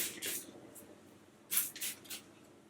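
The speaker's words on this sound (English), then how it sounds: "just go ahead and spray it on your face" A face toner spray bottle mists in short hissing bursts, one and then a quick series of three, close and soft.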